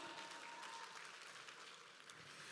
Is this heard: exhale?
no